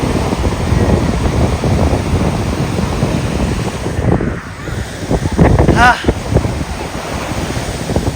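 Ocean waves wash onto the seashore at Somnath, a steady broadband roar with wind buffeting the microphone, loud and close throughout, while people talk and laugh briefly over it.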